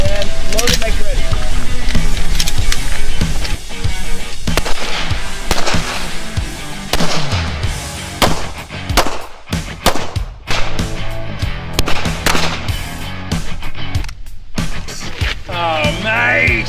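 Rapid gunfire crackles at a shooting range, with dense volleys of loud, close shots and sharp reports, some overlapping, over brief voices and background noise.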